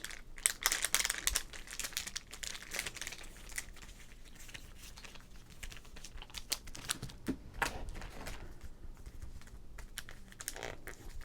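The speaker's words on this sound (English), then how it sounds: "A lot of crinkles." A 1989 Topps baseball card pack wrapper is crinkled and handled up close, producing quiet, dense bursts of crisp crackling and rustling that come and go irregularly, with no talk.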